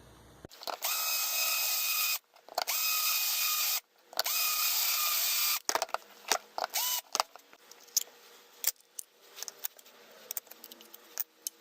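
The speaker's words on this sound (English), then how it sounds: "The first thing we're going to do is drill out these rivets and take it apart" A drill runs in two loud sustained bursts, drilling out rivets on a die-cast Star Destroyer model, followed by scattered metallic clinks and rattles of small parts being handled.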